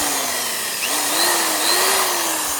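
An electric drill bores holes into a plastic flower pot, a steady whining motor hum that rises and dips slightly in pitch as it bites into the plastic, close and continuous throughout.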